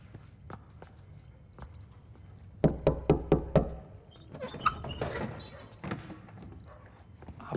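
Knocking on a door, a quick run of five sharp raps followed by a few more scattered knocks, loud and close, with faint room noise and a steady high electronic tone behind.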